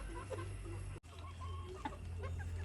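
Soft clucking from egg-laying hens, low and steady over a constant background hum, with one brief click partway through.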